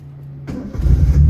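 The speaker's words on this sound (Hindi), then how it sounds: "करते हैं कि हमारी गाड़ी स्टार्ट हो जाए।" A Honda Civic engine starts up: a short crank after a brief quiet moment, then the motor catches and settles into a loud, low idle rumble, heard close and without talk.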